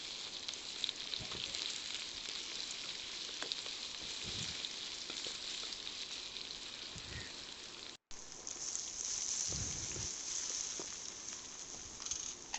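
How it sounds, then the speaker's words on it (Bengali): Hog plums (amra) with garlic fry in a pan with a steady, rain-like sizzle and crackle that runs unbroken, apart from a short break near the end. A few soft stir thumps are scattered through it, and no one speaks. "আমড়াগুলো আমি একটু ভালো করে হালকাভাবে ভেজে নিব,"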